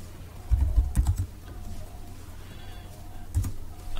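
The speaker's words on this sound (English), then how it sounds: "I'm just here typing away." Computer keyboard typing during a Robocraft gaming session: a few quick clusters of key clicks, close and fairly loud, over a low steady game hum with faint background effects.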